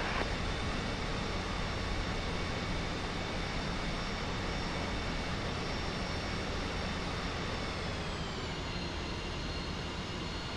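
An F-5E jet in the DCS combat flight simulator taxis onto the runway, its engine a continuous loud whine and roar with steady tones that dip slightly near the end as it lines up and stops.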